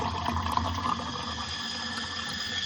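Steady broadband rush of cold water running from a household faucet through a water filter, continuous and fairly loud for the whole stretch with no talk.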